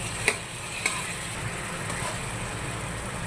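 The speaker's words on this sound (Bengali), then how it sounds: "এবার মশলাটা একটু কষিয়ে নেব" Ground spice paste with salt and a splash of water sautés in a pan for a fish-head and bottle gourd dish, with a soft steady sizzle, two sharp utensil clinks near the start and a low background hum.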